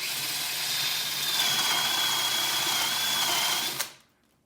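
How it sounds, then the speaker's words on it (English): A drill countersinks keel bolt holes for a small wooden boat, a steady close high whine running for several seconds, then cutting off sharply near the end. "Well, just for doing the countersink"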